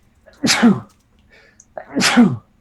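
Two loud, close sneezes about a second and a half apart, each with a sharp intake and forceful burst.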